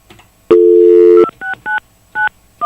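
A telephone keypad sends touch-tone dialing beeps: one long tone followed by four short, evenly spaced DTMF tones, loud, close and clean, with no speech over them.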